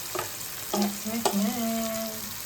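Octopus goes into a hot pan for adobo and sizzles quietly, with a few sharp spatula taps and stirring scrapes over the frying hiss.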